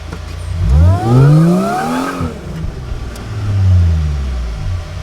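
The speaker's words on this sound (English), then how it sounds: "we're going to do a little bit of burnout and then do a pull with all this ballast" A supercharged Mercedes SLK320 revs hard ahead of a burnout, its engine note climbing and falling in two loud surges, close by.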